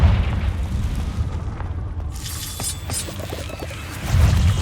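A Confringo explosion spell from Hogwarts Legacy lands with a deep rumbling boom, followed by crackling debris and a second heavy low thud at the end, close and loud with no voices.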